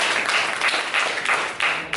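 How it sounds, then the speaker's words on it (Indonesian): Schoolchildren in an Indonesian classroom clap together for their classmates' groups, a brisk, fairly loud wash of many hands with slight rhythmic surges and no speech on top. "Tepuk tangan buat dua kelompok ini dan kita semua."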